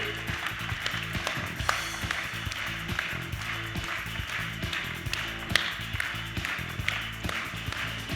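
Audience applause at a French civic New Year's greetings ceremony for 2024, a steady wash of many hands clapping throughout, with faint background music underneath and no voices.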